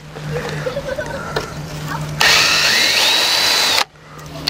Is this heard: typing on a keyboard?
no